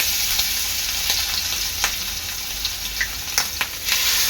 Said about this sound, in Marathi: आता इथे तेल चांगलं तापलेलं आहे आता मी आपल्या गाबोल्या तेलात सोडते